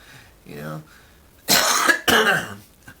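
A person coughs to clear phlegm from the throat: two harsh, close coughs in quick succession after a brief vocal sound, loud and alone.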